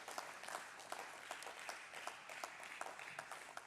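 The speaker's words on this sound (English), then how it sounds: "Let's have a big round of applause." A crowd at a company stock-exchange listing ceremony claps in faint, distant applause, a soft continuous patter with scattered sharper claps.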